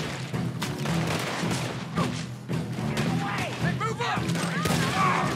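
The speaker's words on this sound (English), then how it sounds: "You wanted me to give you cover fire." Gunfire in the video game Red Dead Redemption 2 during a prison rescue at Sisika Penitentiary: sustained bursts of shots and crashing impacts mixed with thuds, continuous throughout, with voices talking over the fighting.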